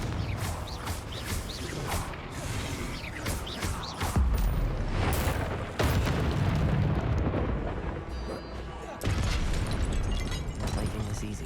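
Confringo blasting spells burst in Hogwarts Legacy amid dense, loud combat noise, with booming explosions and crackling impacts layered over continuous game sound and music throughout.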